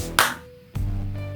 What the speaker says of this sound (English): And you got to clap.